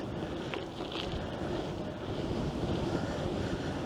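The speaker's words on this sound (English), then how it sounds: "Boy, that wind's a whipping." Strong wind gusting across a microphone outdoors on a canal trail, a steady loud roaring rumble that fills the whole stretch without pause, no voices.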